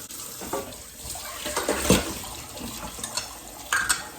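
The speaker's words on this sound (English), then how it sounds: "wash my hands" Hands being washed under a running kitchen tap, water splashing and pattering unevenly into a sink close by, with small bursts as the hands move through the stream.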